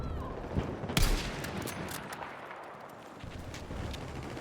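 Explosions and gunfire in Battlefield 6 during a Conquest match on New Sobek City: distant booms with a sharper blast near the start, scattered shots and rumbling battle noise under faint background talk.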